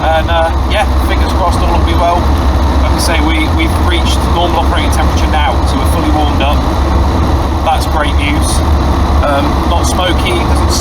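A warmed-up classic Mini engine runs steadily at normal operating temperature, a continuous low hum and rumble beneath someone talking throughout.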